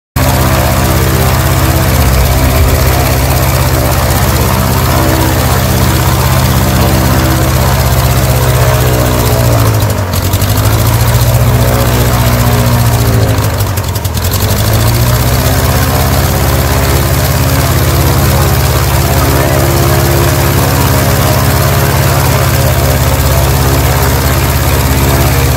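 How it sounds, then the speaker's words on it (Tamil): A Cessna 150 piston engine runs steadily at an aeronautics exhibition in Coimbatore, its propeller spinning with a loud, close, continuous drone. The engine pitch dips briefly twice midway, and no one speaks. "செசனா 150 ஏர்க்ராஃப்ட் வந்து ப்ரொபலர் மட்டும் வந்து ஸ்விம் பண்ணி காமிக்கிறாங்க"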